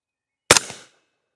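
An AK Honey Badger rifle with its gas set fully open fires a single loud, sharp gunshot that decays quickly with a short tail, alone against silence.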